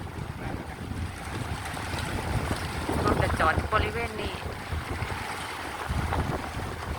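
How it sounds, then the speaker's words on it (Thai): Strong wind roars across a shopping mall parking lot during a rainstorm, a continuous loud rumbling buffet with gusts, while people talk over it. "ลมแรงมากเลย"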